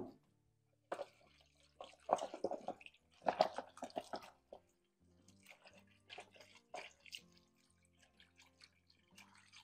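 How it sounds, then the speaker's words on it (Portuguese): Tap water splashes into a bowl of potatoes in a home kitchen, pouring in uneven bursts and trickles with quiet pauses between them, close and moderately loud. "Colocar água nessa batatinha, senão ela vai escurecer."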